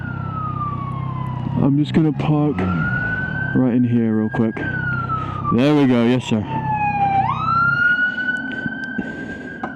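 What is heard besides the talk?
ambulance siren in a video game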